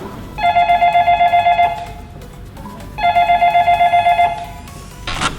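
Telephone ringback tone while placing a call to a shop, two bursts of rapid trilling rings separated by a pause, clear and fairly loud, with a brief click at the end.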